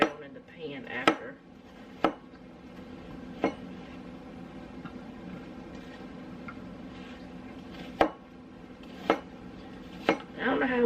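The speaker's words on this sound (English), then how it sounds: "I'll go ahead and chop this up and put it in the pan" A knife chops food on a board for the pan, giving about eight sharp, separate knocks at irregular intervals over a quiet kitchen background.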